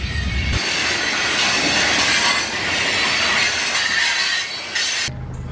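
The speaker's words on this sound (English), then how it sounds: "Now there's a train in my way." A train rolls past on the tracks beside an open field near an abandoned cement works, a loud, steady rumble with wheel squeal and rattling cars filling the clip before cutting off abruptly near the end.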